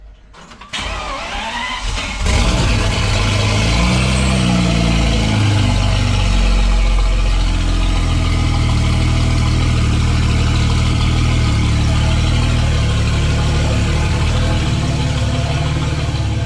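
A V12 bi-turbo engine fitted in a Traction car cranks briefly and catches, then settles into a loud, steady, deep idle that runs on unbroken close by.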